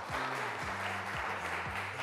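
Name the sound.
audience applause for a contestant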